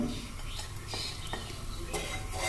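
Fennel and cumin seeds stirred in a hot pan, with a soft dry sizzle under a few light scraping clicks of a utensil, close and quiet.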